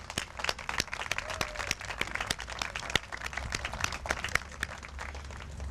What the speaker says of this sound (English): give you a joint round of applause here